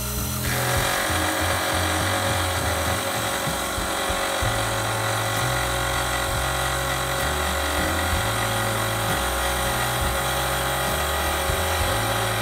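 A converted spindle on a cheap Chinese machine tool cuts metal at low speed, giving a loud, continuous grinding and machining drone with shifting low tones and a ringing headstock.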